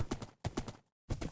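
Horse hooves clip-clopping in Minecraft, a quick run of hollow, crisp hoof steps in two bursts separated by a short silence, fairly faint with no talking.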